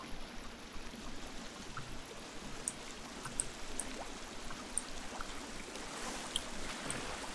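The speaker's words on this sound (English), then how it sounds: "The water's so loud." Loud flowing water from a stream in the survival game The Forest, a constant broad rushing wash with no breaks, steady and enveloping across the whole stretch.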